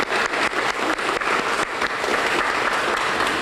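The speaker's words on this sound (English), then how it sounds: "So let's give both of them another round of applause." Audience applause fills a hall at an awards salute, steady dense clapping from a large crowd that swells and holds for several seconds, close and loud with no voices over it.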